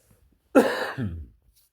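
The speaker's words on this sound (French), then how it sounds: "Pardon, je vais tousser." A single close cough, short and sharp, in an otherwise quiet room.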